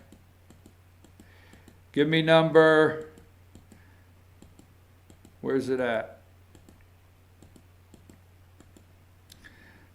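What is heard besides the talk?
computer keyboard clicking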